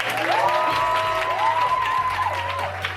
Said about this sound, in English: So if you're not tired of clapping it, please give it up one more time.